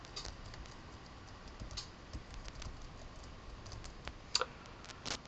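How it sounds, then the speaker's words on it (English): Soft, quick keystrokes patter on a computer keyboard, close and fairly quiet, with a couple of sharper clicks near the end and no talking. "Let me type something."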